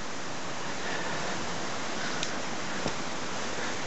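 The River Garry flows below a trail in the Scottish Highlands, heard as a steady, distant rushing hiss of water that stays even throughout, with a couple of faint brief ticks on top.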